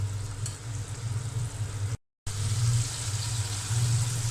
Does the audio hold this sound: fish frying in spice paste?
yes